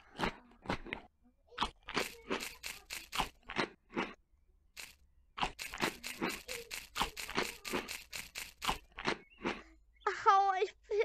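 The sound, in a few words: crunch of eating chocolate donuts in video game Rec Room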